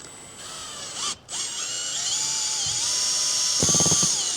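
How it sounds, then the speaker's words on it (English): Handheld power drill fitted with an auger, spinning up and whining at a steady pitch as it churns and mixes two kinds of lawn fertilizer, including Scott's, close by with a short pause and a brief rattling burst near the end. "Get a power drill and an auger like this."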